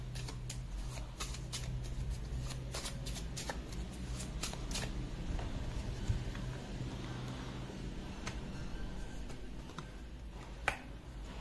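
Tarot cards are shuffled close up, a soft continuous rustle broken by sharp flicks and snaps of card edges, with no talking.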